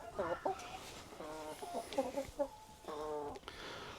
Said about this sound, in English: So these are Isa Browns, rescue chickens.